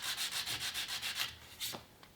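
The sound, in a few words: hand sanding wood finish with 100-grit sandpaper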